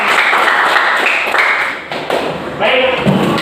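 A classroom of students claps their hands together on the teacher's cue. The claps are loud, rhythmic and close, in bursts, with voices heard alongside.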